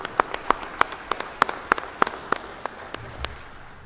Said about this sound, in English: if you would join me in a round of applause for the campus